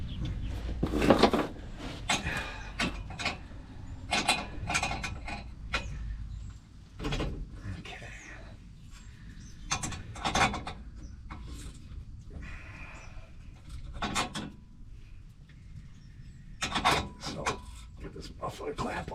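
A wrench works loose an exhaust muffler clamp under a 1979 GMC Vandura van: scattered metallic scraping and rasping bursts, close by and moderately loud, with pauses between efforts.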